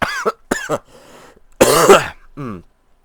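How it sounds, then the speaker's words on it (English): A person gives a couple of short coughs and then a rough, drawn-out throat clearing, close to the mic, with a brief voiced sound at the end. "sorry, I might be coughing a bit"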